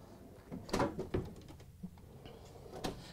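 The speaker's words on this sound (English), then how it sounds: "All of them are soft closed drawers." Kitchen drawers in a Newmar Dutch Star motorhome closing with soft-close slides, giving a few short, muffled thumps and sliding knocks close by, separated by brief quiet gaps.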